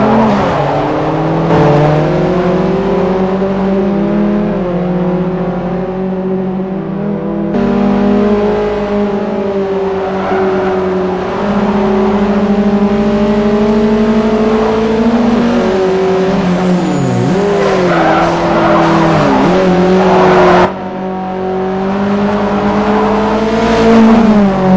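A Toyota FR-S (328 hp) and a Nissan 240SX (363 hp) race on the Nürburgring in Forza 4, engines droning loud and continuous with rising pitch through the gears, abrupt shifts, and a brief tire squeal.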